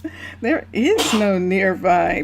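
A single loud sneeze bursts out in the middle of continuous talking, set against the blocky world of a Minecraft colony built with the Minecolonies mod, and the speech picks up again right after it.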